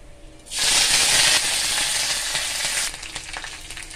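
Mustard seeds hit hot mustard oil for a dhokla tempering, bursting into a loud, steady sizzling hiss that holds for a couple of seconds and then eases into softer crackling.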